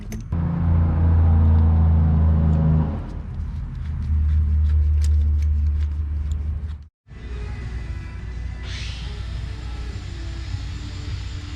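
A car engine with a newly fitted camshaft and roller rockers idles with a steady low rumble, cuts out briefly, then restarts and runs on with a rougher, busier mechanical hum.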